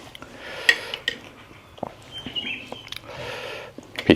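Metal ladle clinks and scrapes against a cooking pot as pork and tomatoes are scooped in for a spicy Thai pork leg soup, sharp intermittent knocks with softer rustles between.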